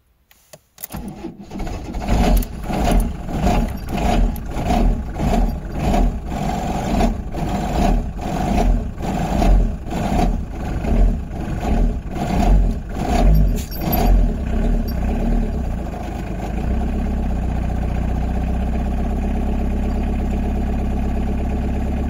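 A car engine cranks repeatedly in a steady rhythmic starter whir for about fifteen seconds, then catches and settles into a low, even idle, close and loud with no talking.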